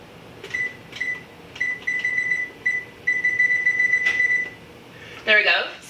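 A kitchen oven's control panel beeps repeatedly while being set to preheat to 425, a string of short, bright, evenly spaced electronic tones, some run together, ending in a brief louder burst.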